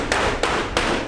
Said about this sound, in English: where the guys are hammering out the aluminum in the shapes necessary, hammer welding them together